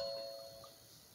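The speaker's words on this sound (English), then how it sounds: "Y'all excuse my doorbell." A home doorbell ringing with a single sustained electronic chime tone that fades gradually, faint and alone with no talking.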